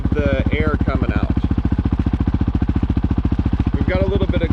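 The Yoshimura RS4 exhaust on a Honda CRF450L idles with a steady, rapid, evenly spaced popping pulse, loud and close, while a voice talks briefly at the start and again near the end.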